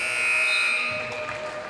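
A loud, sustained electronic buzzer sounds at the end of a quarter in a high school varsity boys basketball game, blaring continuously over faint gym crowd noise.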